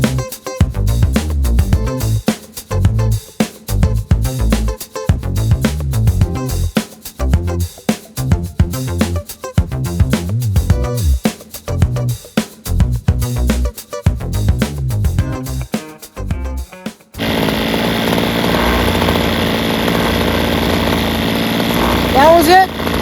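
A Homelite string trimmer engine runs steadily after a carburetor air-fuel mixture adjustment, a continuous buzzing drone that follows a stretch of rhythmic background music.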